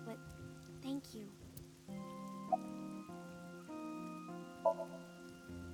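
Steady rain falls in the game AI: The Somnium Files, a soft continuous patter running beneath sustained piano and synth music, with a few brief voice-like sounds near the start.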